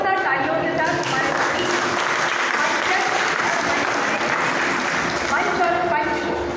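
An audience at a Hindi literary award ceremony for the Mahakavi Kashinath Pandey Shikhar Samman breaks into loud, dense applause that holds steady for several seconds, with voices murmuring beneath the clapping.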